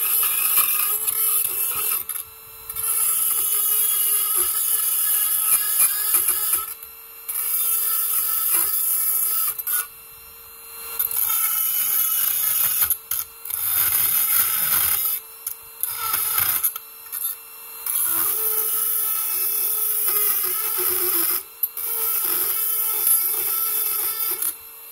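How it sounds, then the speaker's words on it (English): A Dremel rotary tool grinds the dimple out of an AR .450 Bushmaster rifle magazine, a close, high whining grind in repeated bursts with short pauses between passes. "I've got my Dremel, and I just go in with the Dremel and take out"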